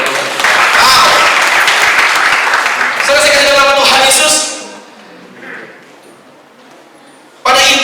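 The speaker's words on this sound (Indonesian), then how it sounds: "Berikan tepuk tangan dulu dong" Church congregation applauding during a sermon, a dense burst of clapping for about four seconds that fades out, with voices mixed in and a brief return of sound at the end.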